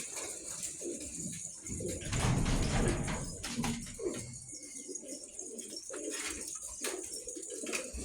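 Pigeons in a coop coo repeatedly in soft, rolling calls, close by and fairly quiet, with a brief rustling scrape early on and faint talking in the background.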